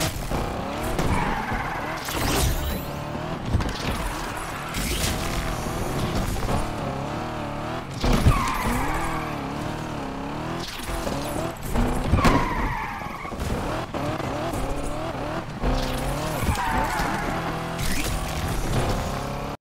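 A car races at night in the Need for Speed Unbound video game, its engine revving and changing pitch while tires squeal and skid in repeated long bursts. The sound is loud and continuous across the whole stretch.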